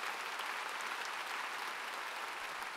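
A church congregation at a large revival meeting in a gymnastics arena applauds steadily, a dense, even wash of clapping that stays loud for the whole stretch without a break.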